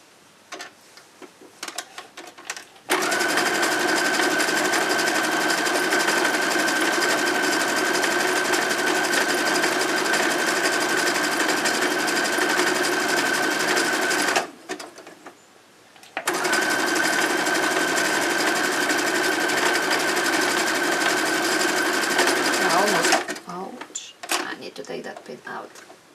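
A sewing machine stitching fabric for printed pads, running in two long steady bursts of rapid mechanical whirring with a short pause between, close and loud.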